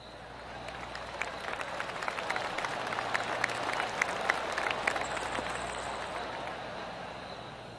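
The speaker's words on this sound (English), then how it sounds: "Oh, golf clap. That's a beauty." A golf gallery gives a sustained round of polite, scattered clapping at a distance, many hands patting softly and steadily over a light crowd murmur.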